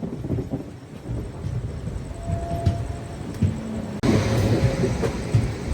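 Steady rumble and rattle of a Circar Express train running on rails between New Guntur and Tenali, heard from inside the coach as continuous loud clatter that swells near the end.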